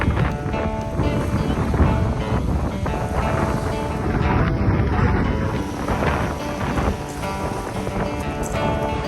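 Wind blowing on a sunny day during a hike in Glacier National Park, a steady, full rushing roar buffeting the microphone without a break from start to finish, with no talk over it.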